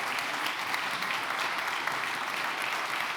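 Sustained applause from a festival audience as a co-founder walks on stage, a thick, continuous wash of many clapping hands at even loudness throughout.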